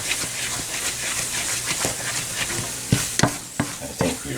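A spatula scraping thick coconut raisin fudge back into a cooking pan, soft continuous stirring with several sharp scrapes and knocks against the pan toward the end, close by, with no talking.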